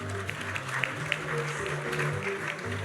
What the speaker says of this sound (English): one big round of applause for all these lovely winners